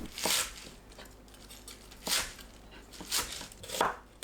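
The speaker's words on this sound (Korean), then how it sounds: "부추를 4cm 길이로 썰어주세요." Knife chopping Korean chives (buchu) into 4 cm pieces on a cutting board, a few separate crisp cuts at an uneven pace, close and moderately loud with quiet gaps between.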